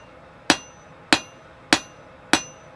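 Hammer striking hot steel while forging v-bit tongs, four sharp ringing blows at an even, unhurried rhythm, close and loud with quiet gaps between.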